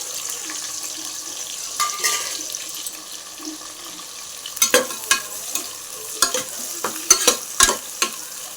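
Chopped onions sizzle steadily in a home pan for Indian-style chicken biryani, with a soft continuous hiss punctuated by several sharp spatula scrapes and stirring clatters in the second half; no talking.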